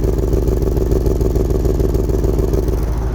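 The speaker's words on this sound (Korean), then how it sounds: "터보의 상징인 이 쿼드 머플러, 배기음부터가 벌써 8기통 티를 확 내고 있죠." Porsche Panamera Turbo S E-Hybrid V8 exhaust burbling through quad mufflers, a steady, deep idle rumble that stays loud and close throughout with no talk.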